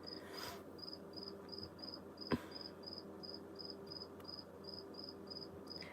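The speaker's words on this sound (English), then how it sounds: "I love the sound of crickets" Steady rhythmic cricket chirping repeats in short pulses throughout, with a low background hum and one brief click midway.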